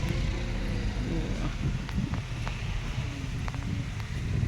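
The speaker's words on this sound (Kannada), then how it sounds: "ಗಾಳಿ ಬಿಡ್ಲಿತ್ತದ" Outdoor wind on a day when the weather has suddenly turned cool, a steady low rumble buffeting the microphone for the whole stretch, with faint rustles and scattered clicks on top.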